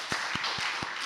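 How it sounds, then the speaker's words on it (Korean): Applause from a church congregation during a Sunday worship service, a broad wash of clapping with a few distinct, louder individual claps standing out at an even pace over about a second. "하나님께 영광의 박수 드리겠습니다."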